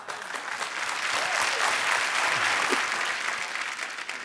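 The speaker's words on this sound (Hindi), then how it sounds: "आप सबकी जोरदार तालियों के बीच, मिसेस नीतू सिंह कपूर जी का." Studio audience on a TV comedy show bursts into loud, sustained applause and cheering to welcome a guest, a dense wash of clapping that holds steady throughout.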